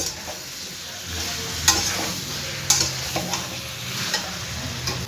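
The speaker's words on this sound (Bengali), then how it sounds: "এবার আলুটাও এর মধ্যে আমি দিয়ে দেবো, দিয়ে দুটোকে খুব ভালো করে একসাথে মশলার সঙ্গে কষিয়ে নেব।" Diced jackfruit and potato fry with spice paste in a pan, a steady close sizzle broken by several sharp scrapes and clinks of a spatula stirring, with no one speaking.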